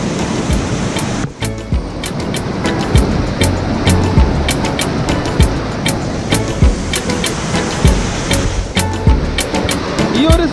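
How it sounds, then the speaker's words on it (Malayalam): Vattathil waterfall gives a loud, steady rush of water pouring down close by, a constant broad roar with small clicks and splashes over it. "വെള്ളത്തിൻ്റെ സൗണ്ട് കാരണം ഞാൻ സംസാരിക്കുന്നത് എത്രത്തോളം കേൾക്കാൻ കഴിയുമെന്ന് എനിക്കറിയത്തില്ല"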